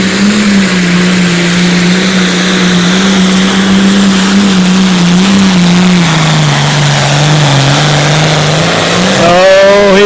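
A light limited pro stock pulling tractor at an outlaw tractor pull in Concord, Nebraska, roars with a steady, loud, sustained engine drone that wavers slightly in pitch and rises at the end, with no talk over it.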